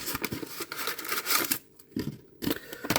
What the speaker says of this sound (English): Let's see what is in the envelope. We will open that